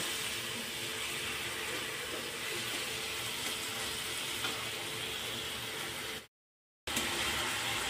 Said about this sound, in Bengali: জলটা দিয়ে ভালো করে এই মশলাটা আবারও কষে নেব।